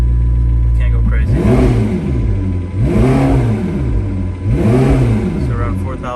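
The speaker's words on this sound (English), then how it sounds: "I'm gonna do some revs for you guys" A 2016 McLaren 650S Can-Am's turbocharged engine revs three times in a row, each rise and fall loud and close, with an idle rumble between the blips and no talk.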